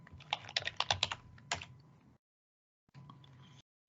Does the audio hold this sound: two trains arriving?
no